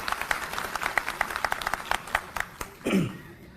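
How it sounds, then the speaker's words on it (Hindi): Crowd at a Maharashtra party workers' rally breaks into loud applause, dense clapping carrying for a few seconds before fading out, with a voice briefly heard near the end. "तो एक बार जोरदार तालियां हमारे सभी युवा और बुजुर्ग साथियों के लिए।"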